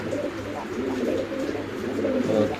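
Lahori pigeons cooing close by at a market, repeated low throaty coos rolling on continuously with a little background murmur.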